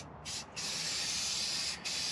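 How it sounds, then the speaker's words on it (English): Clear spray paint hissing from an aerosol can onto a truck steering wheel, two close bursts with the second long and sustained, then a brief gap before spraying resumes. "Clear spray paint."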